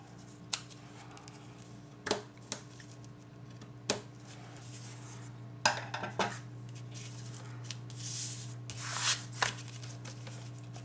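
Cardstock being cut straight for a handmade card, several distinct sharp snips spaced a second or two apart, close and fairly quiet, with light paper rustling between them.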